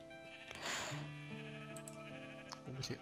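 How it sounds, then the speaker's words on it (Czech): Sheep bleating in the Minecraft modpack Hexxit, a loud drawn-out bleat followed by a couple of shorter calls over game ambience, with no talk. "Hele, ovce."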